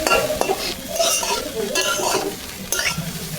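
Papaya slices frying in a pan, loud close sizzling broken by repeated scraping strokes of a spatula stirring against the metal.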